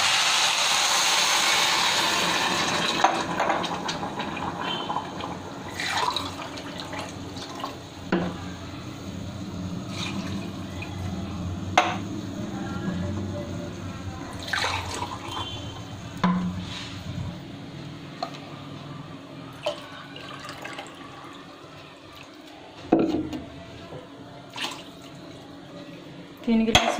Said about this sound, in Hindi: मैं इसमें पानी ऐड कर दूंगी।